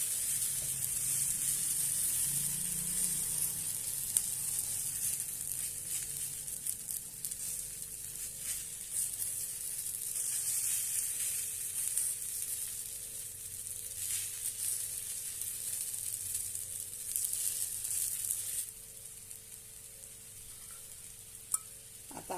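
Beetroot and besan batter for a chila sizzles steadily on a hot griddle, a continuous close frying hiss that thins out slightly near the end, with no talking.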